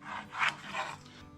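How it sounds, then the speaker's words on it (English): A pencil draws a line on a wooden cabinet door, giving two short, soft rubbing strokes close up in a quiet room. "So I'm going to draw a line here at 6."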